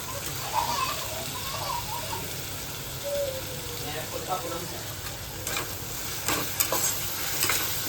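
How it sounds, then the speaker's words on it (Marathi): Onion-tomato puree masala roasting in hot oil in a pan, a steady soft sizzle and crackle with occasional stirring scrapes, close and continuous for a butter egg masala. "पण छानपैकी त्याला तेल सुटेपर्यंत भाजून घ्यायचं।"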